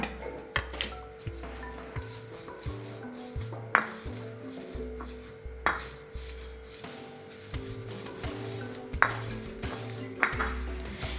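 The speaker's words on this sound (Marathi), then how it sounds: "आपण आता कुटून घेऊया थोडे थोडे घेऊन कुटणार आहे मी" Repeated dull thuds of roasted niger seeds being pounded in a mortar, steady and rhythmic, with faint scraping and light clinks between strikes, close by with no talking.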